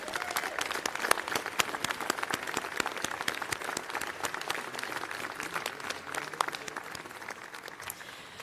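An audience applauds the 16th president at a fall address and investiture, dense sustained clapping that fills the room steadily throughout without a break.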